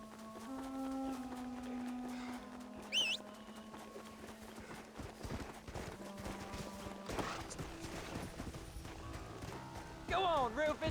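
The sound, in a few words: horse hooves clip-clopping in the video game Red Dead Redemption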